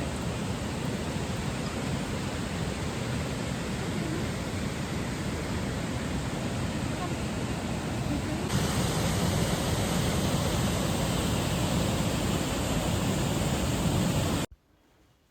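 Water rushes steadily in a stream beneath a double-decker living root bridge in Meghalaya, a loud unbroken hiss that grows slightly stronger partway through before cutting off abruptly at the end.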